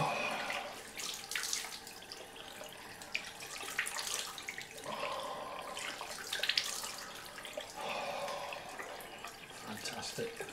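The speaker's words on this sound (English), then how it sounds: "Cold rinse time, I think. Just wet the face cloth down." A bathroom tap runs to wet a face cloth during a Christmas Eve wet shave, a soft steady hiss of water with splashy swells as the cloth is handled, under a quiet background voice.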